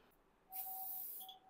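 Cleaning spray hisses out in one sustained burst of about a second onto a washroom sink and fixtures, close and fairly loud, with quiet room tone before and after.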